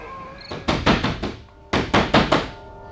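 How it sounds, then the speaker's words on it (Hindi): Knocking on a house door, close and loud: a quick burst of four hollow knocks, a short pause, then another burst of four, with no talk. "दरवाजे पर खटखटाहट।"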